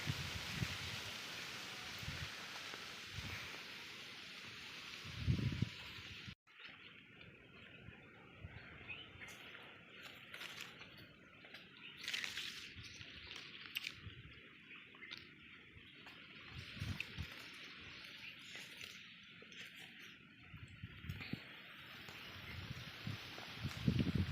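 Wind gusts rustle through karonda and jamun tree branches and leaves in the Konkan countryside, rising and falling in soft surges, with occasional sharp knocks and crackles nearby.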